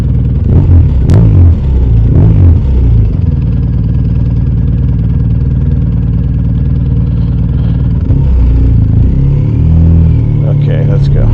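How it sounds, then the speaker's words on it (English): BMW R 1250 RS motorcycle fitted with a full titanium Akrapovic exhaust, baffle removed, starting up and settling into a steady, loud idle with a few blips of throttle near the start and end. "There's the startup."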